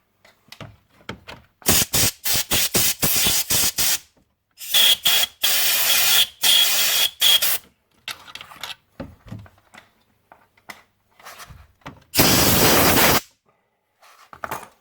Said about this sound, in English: So, just ordinary brake cleaner.